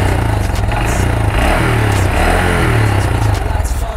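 A 2022 Honda Grom motorcycle with Pro Taper mini bars cruises along a road at speed, its steady low engine drone loud and continuous under strong wind rush throughout.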